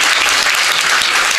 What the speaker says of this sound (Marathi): महेश दादासाठी एकदा जोरात टाळ्या वाजवा बरं.